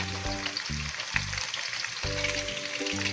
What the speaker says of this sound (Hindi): तो एक साइड से फ्राई होने तक पकाते हैं।